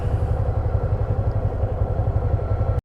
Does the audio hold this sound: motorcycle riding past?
yes